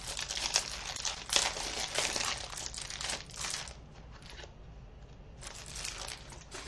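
Paper crinkles and rustles in bursts while being handled during unboxing of a craft catalog order, close and fairly loud, easing off toward the end before picking up again.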